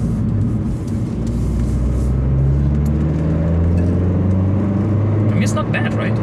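A 2017 Opel Corsa OPC, 207 hp, driving with a loud, steady engine drone that rises slightly in pitch as it pulls, heard from inside the car with a brief higher whine near the end.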